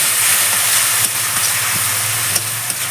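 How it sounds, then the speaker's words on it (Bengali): Loud, steady hiss and sizzle of water poured over spices in a hot pan while cooking soya chunk and potato curry, continuous and close, with a few faint clinks. "একটু জল দিয়ে দিই মশলাটা যেন নাই কড়াতে লেগে যায়"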